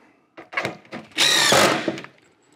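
Power drill driving screws into wood while a buck for Fox Blocks is assembled: several short whirring bursts, then one longer, louder drive with a rising whine near the end, close by and without talk.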